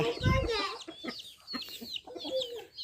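Chickens clucking at a temple fair, several birds giving short, close, overlapping clucks and squawks in an uneven rhythm, with faint voices in the background.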